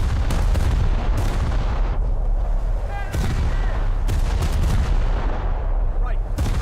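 Heavy naval gunfire from a USS Roanoke warship in a video game pounds out in loud, repeated booms with rumbling echoes, salvo after salvo close up.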